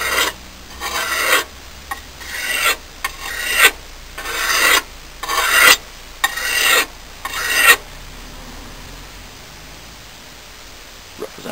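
A blade drawn across a sharpening stone in about nine even rasping strokes, close and crisp, followed by a couple of seconds of quiet.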